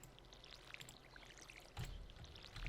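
A watering can pours onto freshly planted crops in the farming game Stardew Valley, a soft splashing trickle that runs for a few seconds with a brief louder gush near the end, quiet and without talk.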